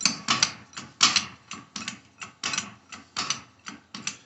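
A press tool being cranked down by hand onto a front wheel bearing of a 1980 Triumph TR7, pressing against a flat steel plate; about a dozen rhythmic metallic clicks and ratcheting creaks, close and fairly loud, with no talk.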